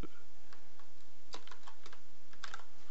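Keys clatter on a computer keyboard as text is typed into Photoshop: a few scattered taps, then quick bursts of keystrokes, close and clear with no talking.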